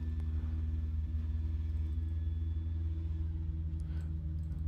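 A racing car engine hums steadily in the sim game Assetto Corsa, a low constant drone at cruising speed with no shifts, fairly quiet and without talk.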